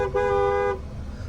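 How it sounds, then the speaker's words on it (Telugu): Car horn gives one loud, steady toot lasting about half a second from inside the vehicle, followed by quiet cabin hum. "హారన్ ఇది"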